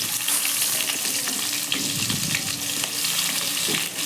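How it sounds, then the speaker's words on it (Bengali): Potatoes frying in hot oil with spices for a Bengali rohu fish curry with cauliflower, producing a continuous close sizzle with occasional stirring scrapes and bubbling. "আলুগুলো আমি লাল লাল করে ভেজে নিব।"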